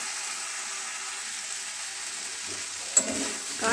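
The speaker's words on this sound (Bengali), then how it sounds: "যতক্ষণ না কাঁচা গন্ধটা যাচ্ছে একটু নেড়ে নেব" Poppy seed paste stirring in a hot pan gives a soft, steady sizzle that holds evenly, with a faint scrape or knock near the end.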